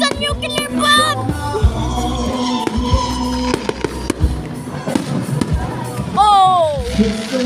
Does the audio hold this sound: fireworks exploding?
yes